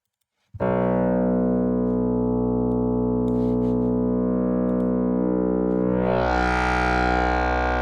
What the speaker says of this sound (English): let's delete this and see what our Zurna will sound with this.